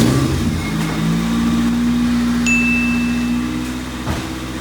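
An Acura Integra GSR engine running at steady raised revs, a buzzy mid-pitched drone that holds and then eases back, close and alone with no talking.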